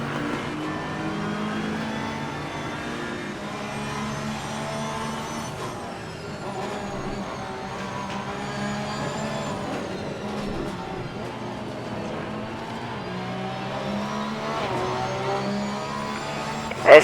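Porsche 911 GT3 R race cars in a sim racing video game, a continuous loud engine roar rising and falling through gear changes and revs for the whole stretch, with no talking.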